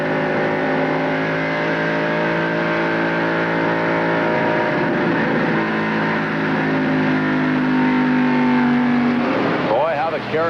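Engine roar of 1995 NASCAR Winston Cup race cars at the Mountain Dew Southern 500, heard from on board with a steady sustained drone and a pitch sweep near the end as the leaders flash by, with a commentator talking over it.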